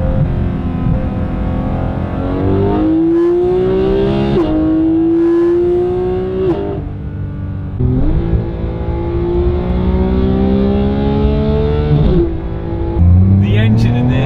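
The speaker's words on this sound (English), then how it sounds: "I just love the sound when it changes gear." A 2017 Porsche 991.2 GT3 with its 4-litre flat-six pulls hard, the engine note climbing and then dropping sharply at each of several gear changes, loud and close throughout.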